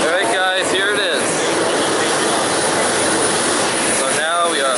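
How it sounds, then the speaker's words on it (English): Delta airliner jet engines roar loudly and steadily while passengers board, with a high whine running underneath the whole time. "So now we are officially boarding the airplane. It's making a lot of noise."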